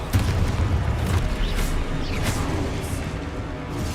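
Spell explosions from the video game Hogwarts Legacy, a string of loud booming blasts and crashes over a continuous game soundscape, with no pauses between them.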